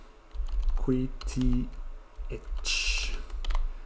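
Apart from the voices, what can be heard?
typing on a computer keyboard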